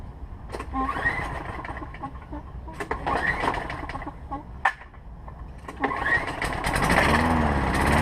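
A Lawn-Boy 10330 walk-behind mower with a repaired leaking carburetor and broken self-propel gets pull-started, sputtering through a few tries before catching and settling into a loud, steady small-engine run close by.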